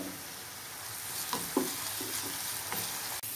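Onions and ginger-garlic paste sizzle steadily in a hot pan for a fish curry, with a few soft scrapes of stirring over the continuous frying hiss. No one speaks.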